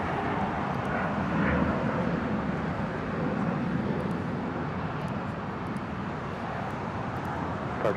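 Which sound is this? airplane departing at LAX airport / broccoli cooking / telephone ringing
airplane departing at LAX airport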